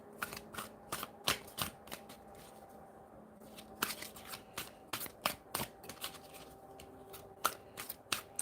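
Tarot cards shuffled at close range in a quiet room, a run of crisp riffling bursts and soft slaps coming in irregular clusters, with brief pauses between them and no voice.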